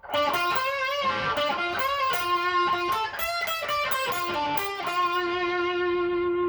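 A distorted electric guitar plays a quick melodic phrase, with bent and sustained notes, loud and up close with no talking.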